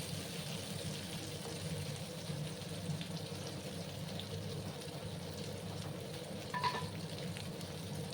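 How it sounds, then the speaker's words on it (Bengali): Pointed gourd and potatoes fry in a pan at home, making a steady, soft sizzle that runs throughout, with a brief clink near the end and no talking. "আরও কিছুক্ষণ একটু আমি সময় নিয়ে পটল আর আলুগুলোকে একটু ভেজে নিচ্ছি বন্ধুরা"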